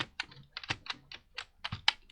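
Quick, uneven clicks of a computer keyboard being typed on, close and fairly soft, keystrokes tumbling in short bursts with no talking.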